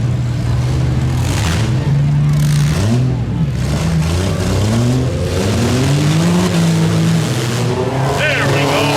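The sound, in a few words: demolition derby van accelerating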